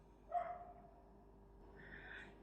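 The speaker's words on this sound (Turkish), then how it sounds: "Ya şu köpeği ben susturup geleyim bir dakika." A dog barks indoors a short way off, one sharp bark followed by a fainter second yelp, both fairly quiet against a still room.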